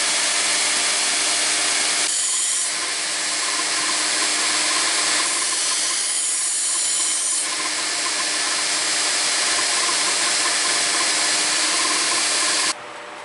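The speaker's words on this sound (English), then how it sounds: "I'm going to start with a 220 grit, and I think just a couple of passes will be sufficient to bring up a good edge on this knife" Continuous close rasping of a deer antler knife edge worked over 220 grit abrasive, loud and steady with a few shifts in pressure between passes.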